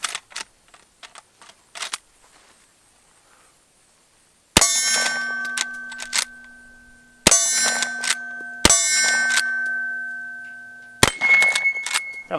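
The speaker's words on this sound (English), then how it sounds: "Let's take some shots with it and see how it does." Four sharp reports from a Henry Color Case Hardened Big Boy carbine firing Blazer brass .38 Special rounds, each a loud crack with a ringing tail, spaced a couple of seconds apart after a few quiet clicks.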